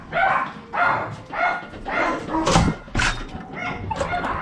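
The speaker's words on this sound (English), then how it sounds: "Oh, God, so much barking." Labrador dogs barking at a rehoming shelter, a run of loud, close barks in repeated bursts with yips mixed in, no talking over them.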